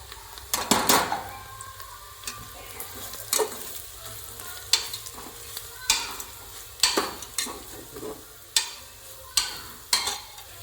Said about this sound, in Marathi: मसाल्यांना तेल सुटेपर्यंत चांगलं परतून घेऊया